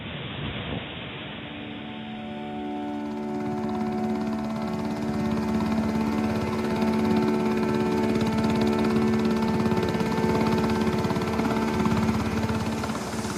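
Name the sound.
Coast Guard helicopters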